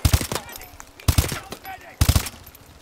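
Call of Duty: Advanced Warfare gunfire comes in three quick bursts of loud automatic shots roughly a second apart, each a tight cluster of punchy cracks with lighter clatter trailing after.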